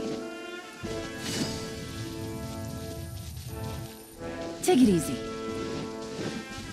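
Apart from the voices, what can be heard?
rain falling, from video game Genshin Impact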